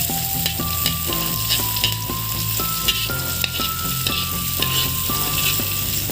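Onions fry and sizzle loudly in a hot pan, a steady crackling hiss with occasional stirring scrapes throughout.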